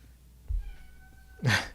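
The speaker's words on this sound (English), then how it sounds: "sad little meows" A cat gives a couple of short, sad meows indoors, a faint low one first and then a louder, brighter cry at the end, with no talk over them.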